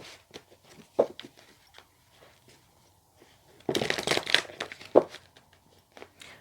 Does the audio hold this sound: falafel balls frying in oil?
no